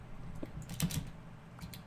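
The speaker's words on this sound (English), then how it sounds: "I made a ton of noise trying to fly on that keyboard thing" Computer keyboard keys are typed on in quick irregular clusters, close and moderately loud, with soft clicks scattered over about two seconds.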